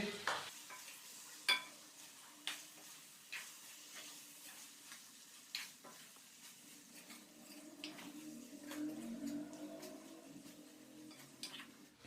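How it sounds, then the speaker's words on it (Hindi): A spoon stirs okra into chicken curry in a pan, giving close, repeated scrapes and knocks on the metal over a soft sizzle. The strokes come every second or so, then become a louder, continuous mixing shuffle in the last few seconds. "भिंडी डालने के बाद अच्छे से हम इसको मिक्स करेंगे"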